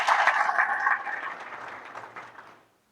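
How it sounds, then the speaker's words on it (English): Round of applause for the MC at a parish gathering: lively crowd clapping, loud at first, then thinning and fading out to silence. "please give a round of applause for our MC for doing an amazing job."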